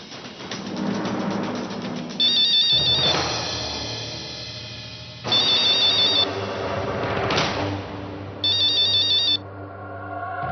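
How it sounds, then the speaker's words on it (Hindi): A mobile phone ringtone plays indoors in a Hindi TV drama scene, an electronic melody repeating in three separate bursts, with quieter sounds between them and no speech. "अरे देख ले बिटवा किसका फोन है"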